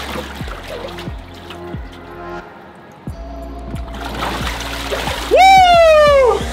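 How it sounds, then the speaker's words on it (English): Water sloshes and splashes as a person does a full head plunge into an ice bath plunge pool, ending with a loud vocal shout close by. "I'm gonna do a full head plunge."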